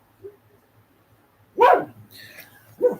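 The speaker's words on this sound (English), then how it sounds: "dog's being a little bit noisy because they were watching" Dog barking nearby at a quiet home, with a faint yip early on, then two loud barks about a second apart and a soft whimper between them.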